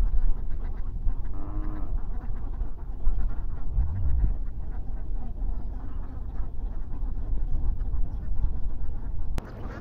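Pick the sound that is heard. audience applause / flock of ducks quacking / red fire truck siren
flock of ducks quacking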